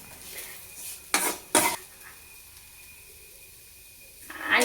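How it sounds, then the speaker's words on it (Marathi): Cooked onion chutney is scraped from a pan onto a plate with a metal spoon, giving a few sharp clanks and scrapes against the cookware, with a faint sizzle beneath and a final clatter. "आता ही भाजी मी एका प्लेटमध्ये काढून घेते."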